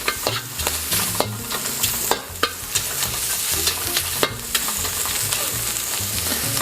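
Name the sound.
prawns and pork stir-frying for Singapore noodles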